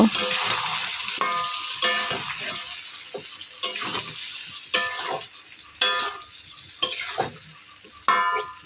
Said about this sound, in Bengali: এখন কাঁচা আমগুলো দিয়ে দেবো। এটা ভালো মতো এখন তেলে মানে নেড়ে চেড়ে সেদ্ধ করব।